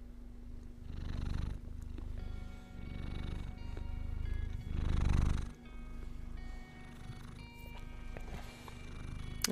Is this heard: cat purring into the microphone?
yes